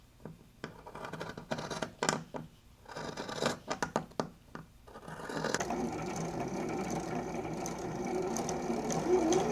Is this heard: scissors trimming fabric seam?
yes